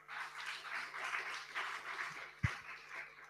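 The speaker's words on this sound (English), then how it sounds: "let's give them a round of applause as well" An audience at a writers' festival gives the event organisers a round of applause, a soft and distant wash of clapping that runs steadily throughout, with one dull thump near the end.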